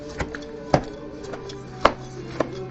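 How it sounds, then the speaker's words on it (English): A large spoon crumbles cornbread for dressing in a few sharp, close scraping and chopping knocks, spaced irregularly over a quiet kitchen background. "Right now I'm getting a large spoon to crumble it up. Crumble your cornbread up."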